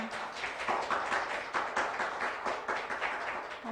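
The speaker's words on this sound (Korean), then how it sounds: "큰 박수 부탁드립니다" Audience at a nurses' association general assembly and policy forum clapping, a soft, fairly distant patter of many hands with slight swells, fairly quiet throughout.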